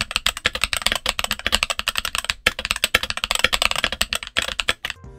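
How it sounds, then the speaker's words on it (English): Typing on a Redragon mechanical keyboard modded with Princess Tactile 60 gram switches gives rapid, crisp, clacky keystrokes in a steady flurry. A brief pause comes midway, and the typing is close and clear with no voices. "I replaced the switches from the Redragon Browns to the Princess Tactile 60 gram switches and did a sound test with that."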